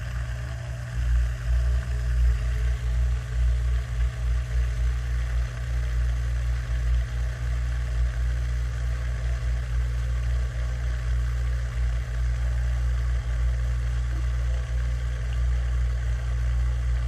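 A GE dishwasher drain pump runs with a constant low, steady hum that holds unchanged throughout, with no voices.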